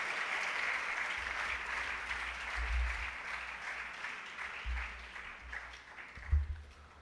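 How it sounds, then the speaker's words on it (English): Audience applause at a World Space Week valedictory ceremony, sustained, fairly even clapping from a large hall crowd that lasts several seconds and slowly thins out, with low rumbling thumps underneath. "Let us once again all give a big round of applause"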